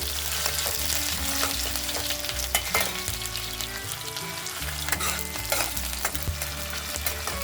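Onions sizzle and crackle loudly in hot oil with a bay leaf and dried chili, a continuous close frying hiss, with stirring and background music underneath.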